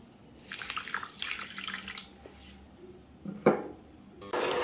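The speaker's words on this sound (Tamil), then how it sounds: "இதில் ஒரு 3/4 கப் தண்ணி சேர்த்துக்கலாம்." Water splashes and pours into a pan in several bursts, with short gaps between pours, close by and fairly quiet.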